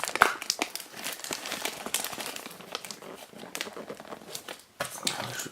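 Scissors cut open a trading card display box, with crinkling plastic wrap and cardboard rustling, scattered snips and crackles close to the mic and no talking.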